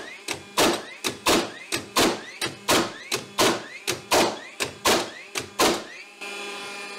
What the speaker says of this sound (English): you can still hear the flywheel going